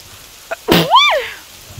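A single sharp human sneeze with a brief intake of breath just before it, close and clear in a quiet setting.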